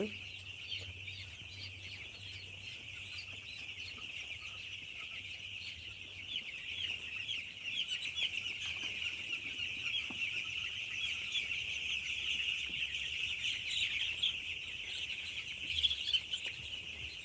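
Chickens cluck steadily on a poultry farm, a dense, continuous flock murmur that grows slightly louder toward the end, with a low hum underneath.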